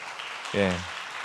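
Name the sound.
church congregation applauding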